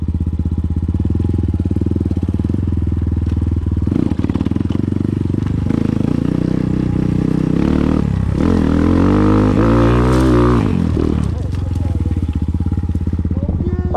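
Loud enduro motorcycle engine ridden off-road, revving and labouring near the microphone with rising and falling pitch as the rider descends a slope, with voices talking over it.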